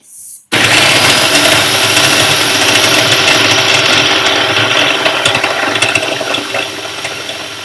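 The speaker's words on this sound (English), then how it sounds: "I'm going to add a peeled banana, full peeled banana, and you're going to blend that until you've got a nice" A kitchen blender starts suddenly and whirs loud and steady, purees a whole peeled banana for a brownie batter base, and its roar eases slightly as the mixture smooths out.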